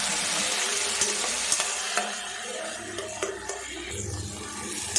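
Tomatoes frying in oil with onions for okra kara kuzhambu give off a soft, steady sizzle, broken by a few light stirring clinks of a spoon against the pan.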